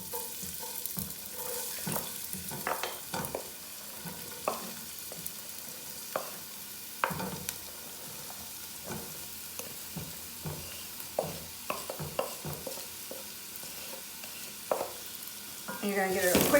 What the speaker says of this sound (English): Now, in goes your garlic, your onions, and your celery, which are your aromatics.